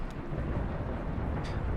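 Thunderstorm in the video game Kentucky Route Zero: a steady roar of rain and deep rumbling thunder fills the scene, with brief hissing bursts at the start and near the end, loud and continuous.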